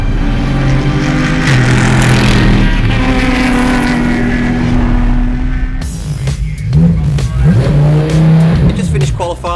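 GT race car at full throttle through the turns at Phillip Island during an Australian GT Championship round, a loud close engine roar that climbs and drops with gear changes, and a voice talks over it.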